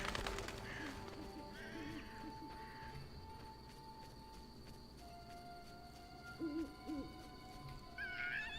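A bird cry in The Witcher video game, a hooting owl-like call that rises a few times over a busy game soundscape of ambient tones and background noise, fairly faint and mid-distance.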